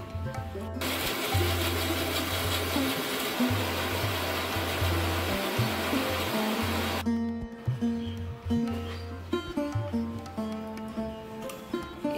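A mixer grinder blends cashews, ginger and green chillies into a paste, its motor whirring loudly in pulsed bursts, stopping and restarting several times before a final run, then winding down into quieter clatter.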